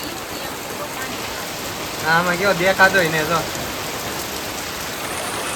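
Heavy rain pours steadily on a village in Gujarat, a dense, constant hiss with no breaks; one person speaks briefly over it partway through.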